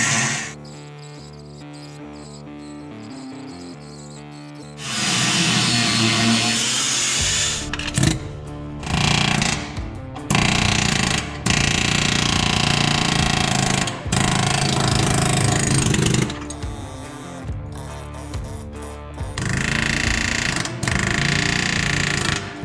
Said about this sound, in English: I'm gonna get masked up and get grinding.